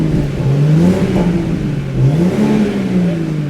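Toyota Supra with a BMW B58 engine, manual gearbox and rear-wheel drive, revving up and down in a loud close burst. Several throttle blips rise and fall over a steady rumbling idle.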